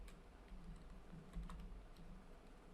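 Keystrokes on a wireless computer keyboard during a PC game session, faint and scattered clicks at an uneven pace over a low background hum, no voices.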